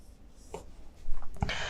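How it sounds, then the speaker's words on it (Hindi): A pen writing on paper during a Class 10 maths lesson, short quiet scratching strokes close to the microphone, with a sharp tap near the end. "इधर लिखते हैं"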